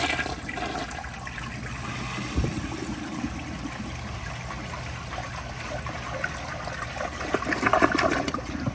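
A 1996 American Standard Cadet toilet with a slim tank and no tank lid flushes, a steady rushing swirl of water that continues for several seconds, turning into louder gurgling and trickling near the end, close up and alone.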